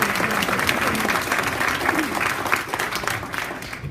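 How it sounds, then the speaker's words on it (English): Dinner crowd at the Whitfield County Kennedy-Carter Dinner applauding Michael Owens, a full, steady wash of clapping with faint crowd murmur throughout. "I want y'all to give another round of applause for Michael Owens."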